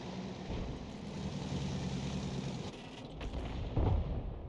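A single artillery gun in the World of Tanks game fires amid a continuous low game rumble, with a loud, deep boom near the end standing out over the steady background.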